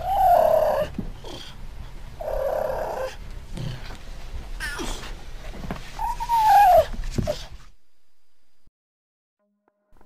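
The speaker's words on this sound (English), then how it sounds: "Listen to this cougar noise" Cougar calls out in the woods with loud, wavering, child-like screams, three long cries with shorter rough bursts between, then the sound cuts to silence.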